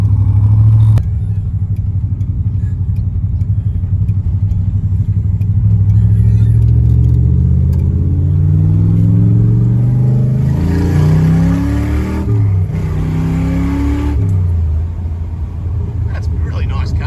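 A 1966 Corvette Stingray engine rumbles loudly and steadily, its pitch rising and falling as it revs and shifts while driving, with no talking over it.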